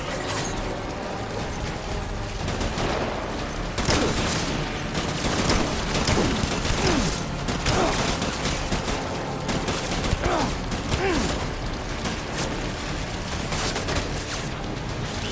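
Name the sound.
gunfire in video game Death Stranding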